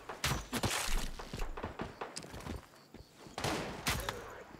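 Automatic turret fire in the video game Once Human, a run of sharp gunshot bursts and impacts that rise and fall over a few seconds, heard up close with busy game noise around it.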